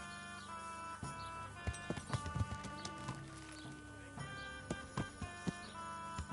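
Horse hooves clip-clop steadily on the ground in the video game Kingdom Come: Deliverance, with irregular, fairly close footfalls over soft ambient background music.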